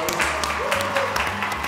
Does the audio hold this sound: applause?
yes